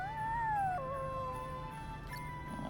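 A puppy whines in Bravely Default 2, a high, wavering cry that rises, then drops and holds a long, thin tone, with no voices over it and a soft background hum beneath.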